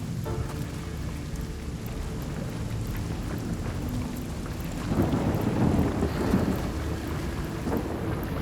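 A rain spell in Divinity Enhanced Edition brings a steady hiss of rainfall with a low rumble of thunder swelling midway, dense and continuous without speech.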